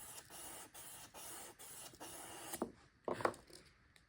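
A travisher blade being honed on a 400 grit sharpening stone, a steady close rasping rub in repeated strokes with brief pauses, followed by a few lighter scrapes.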